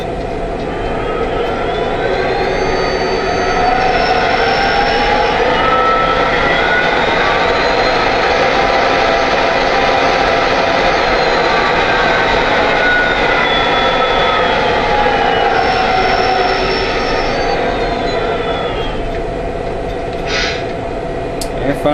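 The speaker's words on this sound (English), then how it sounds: "Here's the RPM sounds." Diesel engine sound from a Lionel Virginian SD70ACe model locomotive, a loud, continuous drone that rises in revs and pitch, holds, then falls back, with a brief hiss near the end.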